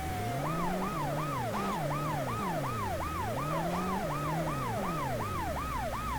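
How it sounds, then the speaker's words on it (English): A police siren from the PS1 video game World's Scariest Police Chases wails in fast repeating yelp cycles, loud and continuous over a low engine drone, with no voices. "So I'll try and disable the siren"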